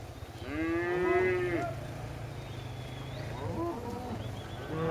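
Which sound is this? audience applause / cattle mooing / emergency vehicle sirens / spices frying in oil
cattle mooing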